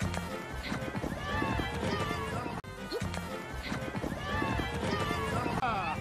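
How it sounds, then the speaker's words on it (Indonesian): Horses trotting at a rodeo in an animated film, rapid clip-clop hoofbeats with occasional whinnies and a crowd and music bed behind, moderately loud and continuous with a sharp cut midway. "Atraksi kuda di dalam rodeo ini sungguh menyita perhatian Lucky"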